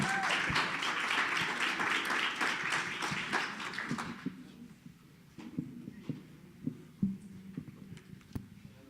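Audience applause at a global impact summit fills the first four seconds as dense, steady clapping, then thins to scattered individual claps and murmured talk.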